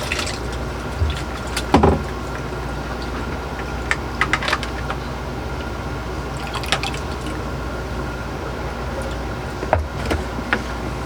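Water drips and trickles from a boat's raw water strainer into a bucket, sparse close drops and small splashes over a quiet low hum, with no talking.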